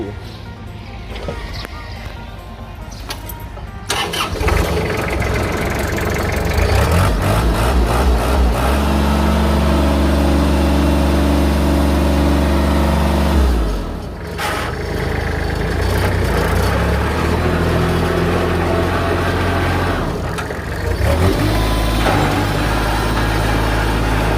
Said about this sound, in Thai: เดี๋ยวลองสตาร์ทเครื่องยนต์ดู